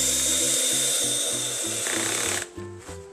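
A power drill drives screws into a wooden Adirondack chair in a DIY garage. The motor whines loud and close, with a rapid stepped pulsing of the clutch or screw threads, then cuts off and gives two short bursts.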